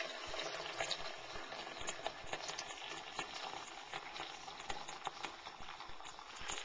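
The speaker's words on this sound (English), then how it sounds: "now we're just going to wait for the kettle to boil" Water in a kettle rumbles and bubbles toward a boil, a steady crackling patter with small pops, fairly close and constant.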